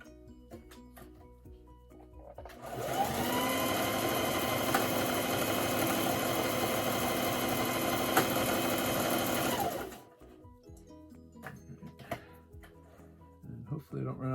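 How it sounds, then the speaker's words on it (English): A sewing machine stitches fabric for a mask hood in one fast, continuous run of about seven seconds, loud and close, then stops abruptly, leaving quiet handling noises. "I'm going to sew this little pinch on the front."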